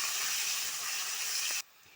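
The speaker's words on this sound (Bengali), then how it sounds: "এই পেঁয়াজটা দিয়ে একটু লাল করে ভাজতে হবে।" Onions fry in hot oil with a loud, dense hiss that holds steady and then cuts off abruptly near the end, leaving quiet.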